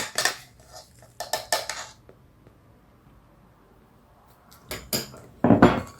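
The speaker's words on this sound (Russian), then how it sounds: "Смешиваем муку с творожной смесью." Flour being stirred into a curd mixture in a bowl with a spoon, giving bursts of clinking and scraping against the dish separated by a quiet pause.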